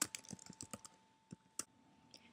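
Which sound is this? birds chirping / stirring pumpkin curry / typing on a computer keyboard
typing on a computer keyboard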